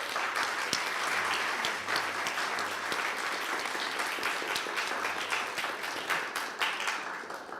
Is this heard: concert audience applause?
yes